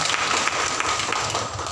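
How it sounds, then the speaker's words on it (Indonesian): A church congregation applauds during a Tuesday sermon, a dense, even wash of clapping from many hands, fairly loud and steady throughout with no voices over it. "Tepuk tangan yang paling mulia Pak."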